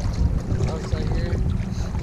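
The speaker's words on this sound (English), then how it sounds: "the wind started to pick up a little bit more" Steady wind rushes over a small fishing boat trolling for salmon just outside a harbor at sea, with a constant broadband roar and buffeting gusts close to the microphone.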